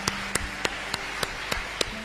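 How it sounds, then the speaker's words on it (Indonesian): Congregation clapping hands together in unison during a church sermon, about seven sharp claps on an even, brisk beat, fairly quiet and without talk. "Tepuk tangan, saudaraku."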